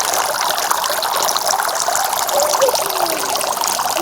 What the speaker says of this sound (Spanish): Vamos a dejar que le entre un poquito de agua del estanque.